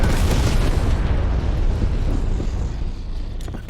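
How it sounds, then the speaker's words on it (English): A napalm strike in a video game erupts as a loud, broad roaring explosion that fills the moment and then slowly fades as a rumbling, crackling tail. "Enemy napalm strike incoming."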